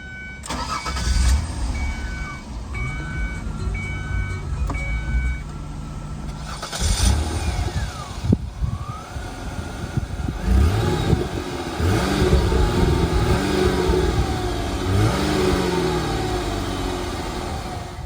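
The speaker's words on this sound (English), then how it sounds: "talk about the engine, start it up, get an exhaust clip" A 2003 Mazda Tribute LX's 3-liter V6 engine cranks and starts, idles roughly, then revs up and down several times with a deep exhaust note, heard up close.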